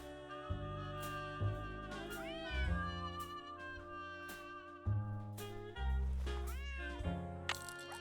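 In the Nancy Drew game Secret of the Old Clock, a cat meows repeatedly, about six or seven distinct close meows at irregular intervals over a constant low ambient drone.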